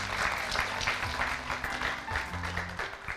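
Audience applause for film actor Ryu Seung-ryong at a live talk-concert stage event, steady clapping throughout with low tonal music or hum underneath and some faint voices mixed in.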